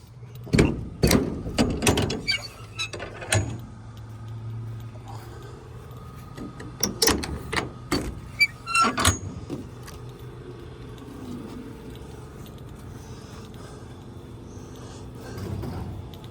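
An enclosed race trailer being opened, with a run of sharp metallic clicks, clanks and latch rattles in two bursts, close and fairly loud, then quieter handling noise.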